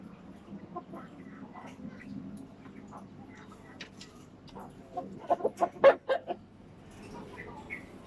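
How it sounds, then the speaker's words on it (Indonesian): Fighting chickens cluck and squawk in a yard, a few louder bursts standing out near the middle over a low, steady background. "ayam-ayam aduan itu"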